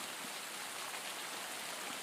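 Rain falls steadily on a campsite with a canvas tent in cold, icy weather, a dense, even hiss of drops with no talk over it.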